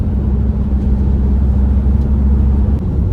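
A 1965 Rover P6 2000 with a 4-speed manual gearbox pulls under acceleration, giving a steady, loud low engine rumble that holds evenly throughout with no talking.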